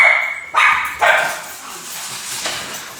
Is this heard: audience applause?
no